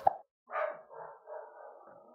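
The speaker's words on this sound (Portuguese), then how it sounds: "Meus cachorros, de vez em quando, surtam. Começam a latir todo mundo." A few short barks from a dog, slightly distant, followed by a drawn-out whining yelp.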